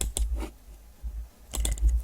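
Computer keyboard keys pressed in two short bursts separated by a pause, close and crisp, while entering a symbol in a word processor during an IT skills competition exercise.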